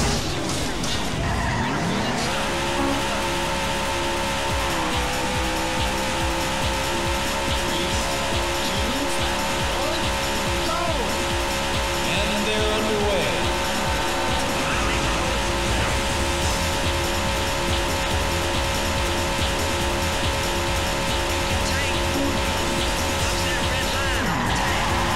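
Race cars in the Daytona USA arcade game roar continuously on the beginner course, with loud sustained engine drone and screeching tire skids throughout, a brief announcer voice at the start.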